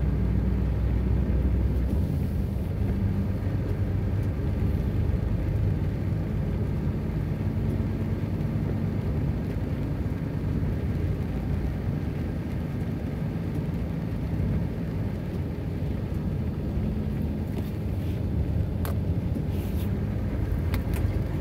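A nearly new truck rolling along a slippery wet road, a steady low rumble of engine and tyre hiss continuing close and unbroken with no talk.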